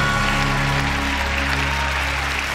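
Steady applause from an audience at a game-show taping, continuous and fairly loud, with a low hum beneath it.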